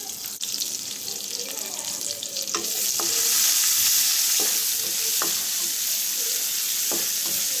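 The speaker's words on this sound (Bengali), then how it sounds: "তাহলে পেঁয়াজটা ভালো করে ভাজা ভাজা হবে" Onions frying in oil in a home kitchen, a steady close sizzle with scattered stirring clicks and scrapes from the pan, the hiss growing louder partway through.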